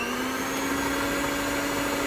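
An electric mixer whirs steadily on low speed through banana bread chocolate muffin batter, a constant close motor drone with a fixed pitch and no talking.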